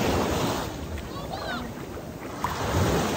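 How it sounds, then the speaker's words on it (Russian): Sea waves wash onto a Turkish beach in a continuous loud surf roar mixed with wind buffeting the microphone, while voices speak over the water. "Волна, волна. Волна. О, волна."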